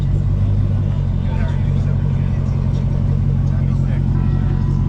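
A Dodge Challenger Redeye with Charger-style body panels accelerates down a drag strip, its engine a loud, steady low roar that holds strong throughout without a break.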